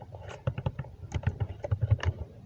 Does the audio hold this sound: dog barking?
no